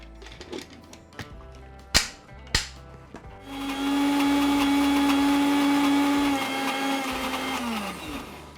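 A few sharp taps and clicks come first, then a kitchen blender whirs loudly for about five seconds as it purees puran, the sweet lentil filling, for puran poli ice cream, before winding down.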